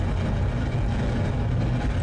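Clustered Wildcat rocket engines in Kerbal Space Program produce a dense, unbroken low roar that fills the whole moment at steady loudness.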